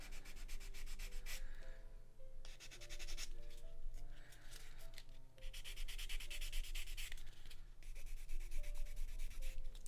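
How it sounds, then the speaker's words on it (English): Sanding a small plastic part from a Bandai TIE Advanced model kit, steady rhythmic back-and-forth rubbing strokes in quick repeated bursts, close and alone under a faint background hum. "little bit of sanding."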